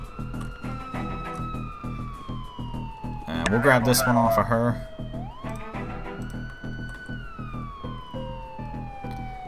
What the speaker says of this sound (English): I'm gonna kill the siren on this thing because that's driving me nuts